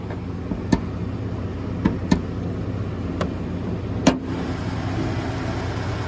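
A 3.5 EcoBoost twin-turbo V6 in a 2025 Ford Expedition runs at a low, steady idle, a faint hum broken by a few sharp clicks.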